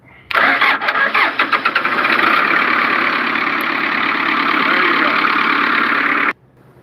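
A Honda CBR motorcycle engine is started with a jumper wire: a quick stuttering crank catches into a loud, steady high-revving idle that runs for several seconds before cutting off abruptly.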